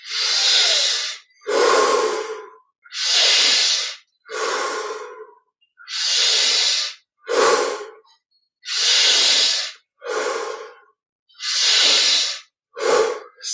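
Deep, slow breaths during a guided Yogoda energization meditation, alternating long airy inhales and shorter exhales in a steady rhythm, about ten breaths, close and clear with no talking.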